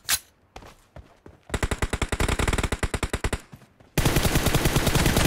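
Rapid automatic gunfire in the mobile game PUBG Mobile during a team deathmatch, with close, loud bursts of evenly spaced shots and a denser, sustained volley toward the end.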